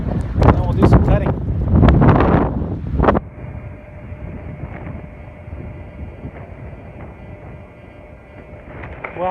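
A Husqvarna L65 chainsaw engine runs at a steady, droning pitch while being tuned, with someone talking over it briefly at the start.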